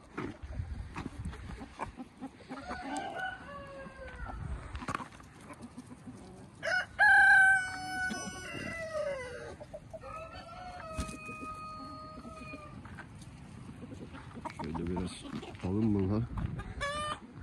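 Chickens in a coop, with a rooster crowing loudly midway and hens clucking and calling around it, while a person talks nearby.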